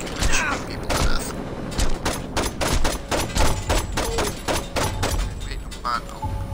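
Gunfire in Saints Row 2 rattles out in rapid bursts of sharp, close shots with short gaps between them, and people talk over it.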